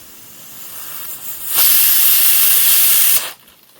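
A pressure cooker cooking purple yam and mutton lets out a single loud, sharp hissing whistle that holds for about a second and a half, then cuts off abruptly.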